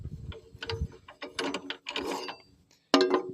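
Band tension being cranked down on a Cook's HD3238 sawmill, a series of close, irregular ratcheting clicks and mechanical clanks in short bursts, with a brief pause before a final louder burst.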